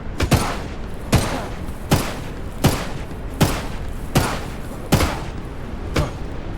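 Gunshots during a raid in the HumanitZ survival game: eight loud, evenly spaced single shots, about one every 0.8 seconds, each with a short sharp decay.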